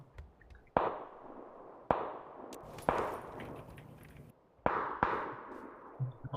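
Five sharp gunshots in PUBG ring out one at a time at irregular intervals, each with a long echoing tail, distant-sounding and without voices.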